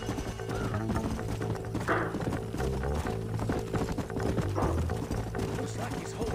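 In the Red Dead Redemption Remastered video game, horses gallop with rhythmic clip-clop hoofbeats, steady and fairly close, under voices talking and a dense game soundscape.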